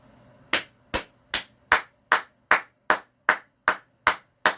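Hands clap in a slow, even rhythm, about eleven sharp, loud strikes spaced roughly two-fifths of a second apart, each ringing briefly in a quiet room.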